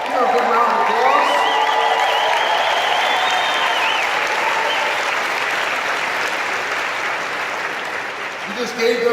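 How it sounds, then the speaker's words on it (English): Sustained applause from a large audience honoring teachers fills the whole stretch, loud and dense throughout with a few cheers mixed in, tapering slightly near the end. "Give them a good round of applause."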